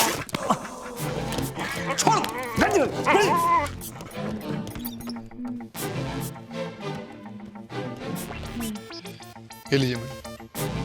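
A dog barks, yips and whimpers in a busy, noisy scene, with the sharpest outbursts early and people talking over a music-backed soundtrack.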